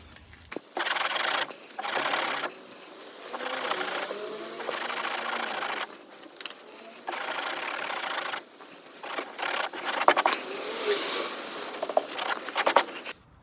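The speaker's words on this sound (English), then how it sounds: "And we'll clean the surface area a bit." A Volvo XC60 rear wheel arch surface gets wiped and scrubbed in repeated bursts of rubbing, close and fairly loud, separated by short pauses.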